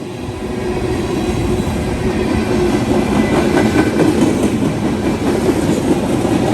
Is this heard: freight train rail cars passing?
yes